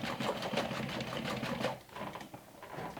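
Sewing machine stitching a lined backpack, running in a fast steady whirring burst for nearly two seconds, then easing off and stopping before a brief restart, close and clear with no speech.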